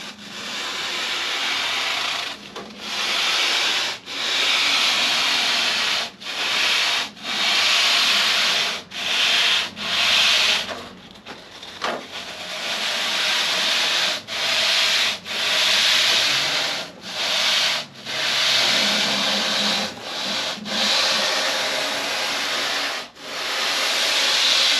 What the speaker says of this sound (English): So you can sand along here.